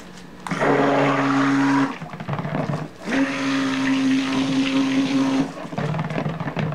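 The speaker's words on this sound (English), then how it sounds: "I will stick blend." Electric stick blender whirring through cold process soap batter made with shea butter, cocoa butter, coconut, olive, grapeseed and jojoba oils, running in two loud bursts separated by a short pause.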